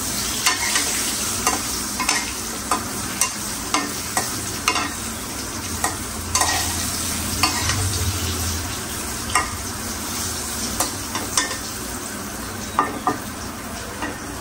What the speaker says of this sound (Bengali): আমি পটলটা ভেজে নিতেছি প্রথমে।